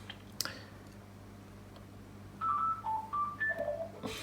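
A telephone ringing nearby, a series of short electronic melodic tones rising and falling in quick succession after a quiet stretch with faint ticking, moderately loud and without speech.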